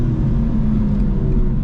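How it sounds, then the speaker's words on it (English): A BMW M4 G82 with catless downpipes and aftermarket air intakes drones with a steady, loud, deep intake roar from inside the car, an even low rumble with no pauses or gear changes. "Those intake sounds, man, are crazy."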